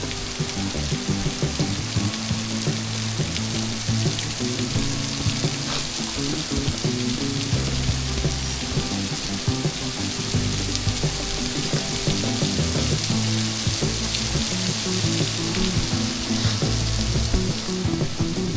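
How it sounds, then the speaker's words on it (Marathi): Monsoon waterfall water pouring down near a cave on a hillside trek, a loud continuous broadband rush with no talking. "बघा धबधब्याचं पाणी बघा किती भारी खाली पडतं इकडे"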